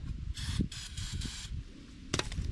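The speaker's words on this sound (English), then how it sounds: "I gotta spray some starting fluid because it's been a day or two." Several short bursts of hissing starting fluid sprayed from an aerosol can into an engine, separated by brief pauses, close by over a low background rumble.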